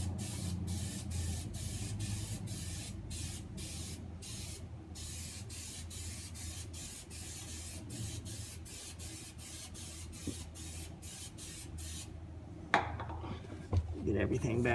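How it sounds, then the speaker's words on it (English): Steady hissing aerosol spray from a spray can coats Volkswagen Beetle kick panels, running throughout in repeated bursts separated by brief pauses, close and loud, with a few clattering knocks near the end. "Always make sure to spray both sides of every panel."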